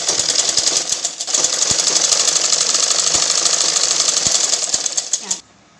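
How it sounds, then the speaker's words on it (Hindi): A sewing machine stitches the folded sleeve of a 42-inch blouse, running as a loud, fast, continuous mechanical whirr with a rapid needle rhythm for about five seconds before stopping abruptly. "फोल्ड करके यहाँ पे एक सिलाई लगाएंगे"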